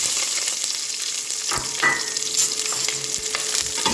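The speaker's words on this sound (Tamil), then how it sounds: "நல்லா வதக்கிக்கோங்க" Onions sauté in a hot pan with mustard seeds and curry leaves for a roasted-chickpea kadalai kulambu: a steady, close sizzle broken by a few soft stirring scrapes, with no one talking.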